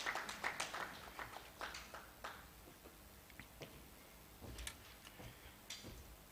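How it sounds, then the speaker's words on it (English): Sparse hand clapping from a small audience at a post-budget dialogue as a panelist walks in, a loose scatter of claps that thins out, quiet and slightly distant. "So she's going to have a hand clap as she walks here."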